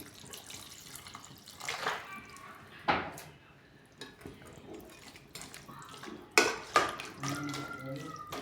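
Water splashes and pours into a pan in short bursts, mixed with clinks of cookware and some talking in the background.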